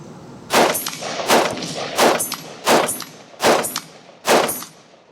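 Five evenly spaced, loud, sharp shots from an IWI X95 Micro rifle fired from a kneeling position at 100 yards, each followed by a short ringing echo.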